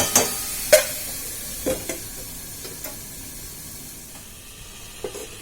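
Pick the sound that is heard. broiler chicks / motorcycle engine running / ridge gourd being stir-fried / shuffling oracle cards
ridge gourd being stir-fried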